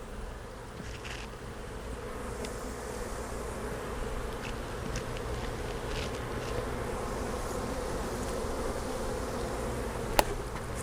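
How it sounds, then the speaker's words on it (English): Honey bees coated in powdered sugar during a varroa mite sugar-roll check hum in a dense, continuous buzz close by, with a faint click near the end. "Now these bees are going to be really popular because they're all covered in sugar."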